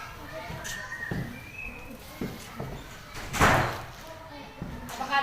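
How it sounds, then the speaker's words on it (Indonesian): A door bangs shut in a school classroom during a debate. Several dull thumps and a louder slam stand out from the murmuring voices and room noise. "Tutuplah pintu tuh."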